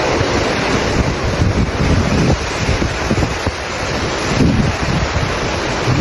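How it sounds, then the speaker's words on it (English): Sea water surges toward the Kuril Islands coast of Russia in a tsunami, a continuous heavy roar of rushing surf with strong wind buffeting the microphone and no voices. "A tsunami wave surges toward the Kuril Islands in Russia, rising quickly from the sea."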